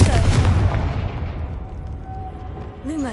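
A Confringo blasting spell goes off in the Hogwarts Legacy video game, a loud, broad rumbling burst at the start that slowly decays over about two seconds, followed by a faint rising tone near the end.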